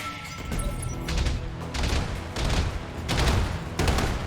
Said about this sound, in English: Turret is peppering me with shots.